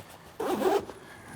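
A backpack zipper gives one quick, soft rasping pull lasting under half a second against a quiet room background.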